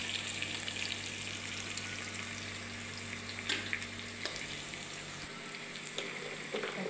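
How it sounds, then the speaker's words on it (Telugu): Cinnamon, cloves and green chillies sizzle in hot oil in a pan for vegetable pulao, a steady close frying crackle with light stirring clinks. "చెక్క, లవంగ, పచ్చిమిరపకాయలు అన్నీ వేసి నేను వాడుస్తాను."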